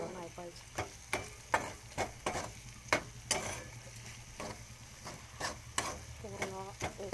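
A spatula scrapes through a spiced eggplant curry mixture in a pan over low heat, in a steady run of sharp rhythmic strokes, with a soft voice briefly heard near the end.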